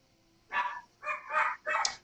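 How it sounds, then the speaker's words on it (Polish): A dog barks in four quick, close bursts, loud and separated by short gaps, with no talking. "teraz akurat pies zaczął serio szczekać"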